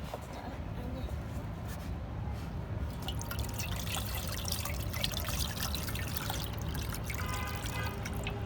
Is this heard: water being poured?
yes